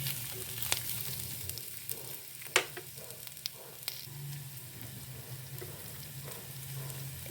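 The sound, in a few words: curry leaves, garlic, green chilli frying in a pan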